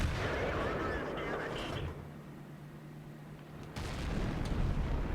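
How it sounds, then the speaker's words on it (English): Artillery shell fire and impacts in the tank battle game World of Tanks, heavy booming blasts at the start and again near the end with a quieter rumbling stretch between, under a commentator's talk. "artillery has just gotten interested in Circon's position. You see a shot just went in there"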